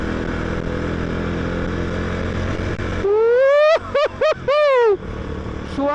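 A Bristol Classic 400i motorcycle on the move gives a steady close engine drone at first, then louder passages where the pitch swoops up and down.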